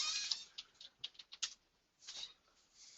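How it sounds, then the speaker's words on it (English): Computer keys tapped in short bursts to enter a job number into construction accounting software, a handful of close, light clicks with brief pauses between them. "and then you type the job number in."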